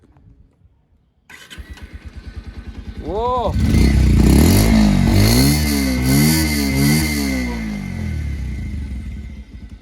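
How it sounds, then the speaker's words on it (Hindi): A 2023 Bajaj Pulsar 125 Carbon Edition motorcycle cranks and catches close by, then its exhaust gives a few rising and falling revs before dropping to a rumbling idle. A voice speaks briefly at the start. "अब सुनते हैं इसके थोड़ा सा एग्जॉस्ट साउंड सुन लेते हैं कि 2023 मॉडल में कुछ एग्जॉस्ट साउंड में कुछ भी बदलाव हुआ है कि नहीं"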